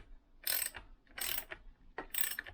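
A ratchet tightening the crankshaft nut on a Lambretta big block engine: three quick, close bursts of rapid clicking, evenly spaced with short pauses between them.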